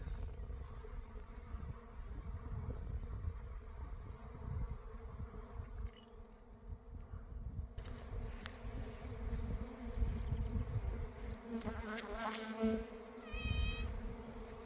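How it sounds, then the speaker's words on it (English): A honey bee swarm drones in a dense, continuous buzz close around the microphone for about fifteen seconds, with individual bees whining louder as they pass near. "A lot of bees."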